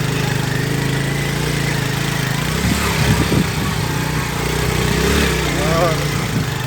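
A motorcycle engine runs steadily on a rough, difficult road, its mid-pitched drone continuous and fairly near, with someone talking over it partway through.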